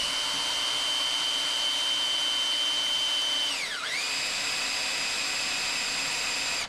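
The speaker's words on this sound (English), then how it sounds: "Now we're going to use a drill, 1/8 inch." A steady high-pitched whine of a power drill with a 1/8-inch steel pilot bit boring into steel, dipping in pitch briefly as it bites, then running on until it stops.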